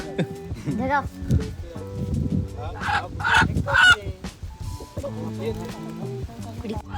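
A rooster about to be slaughtered at a village ritual squawks and clucks in short, agitated bursts, close by, mixed in with several people talking over it.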